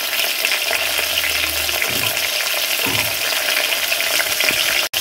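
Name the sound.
potatoes frying in oil with turmeric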